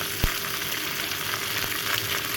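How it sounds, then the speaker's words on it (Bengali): Fish frying in a pan for a spicy fish curry at home: a steady, loud sizzle and crackle of oil fills the moment, with a brief thud or stir near the start and another faint knock later, no voices. "ওইদিকে তো আমাদের মাছ ভাজা হচ্ছে এখন।"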